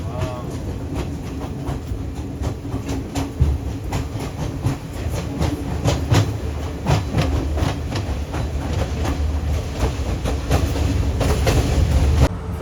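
A tourist train runs from Nuwara Eliya to Ella in Sri Lanka, its carriage rumbling steadily with repeated clickety-clack wheel beats and rattles. The noise stays continuous and fairly loud, with faint voices in the background.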